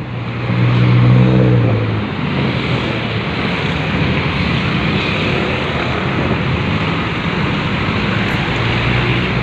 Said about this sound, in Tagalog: Ay, traffic oh.